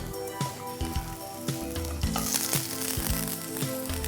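Cod fillet sears in very hot butter in a pan, a constant crackling sizzle with brief louder spits and stirring clicks, close and alone without talk.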